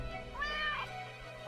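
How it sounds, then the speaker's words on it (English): A cat lets out a single drawn-out, rising and falling meow, fairly quiet and clear over a soft steady background hum. "The cat emits a delighted meow at the prospect."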